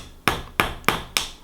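An armorer's wrench taps four sharp metal strikes at an even rhythm, punching holes in an alcohol jet stove, close and crisp with no talk.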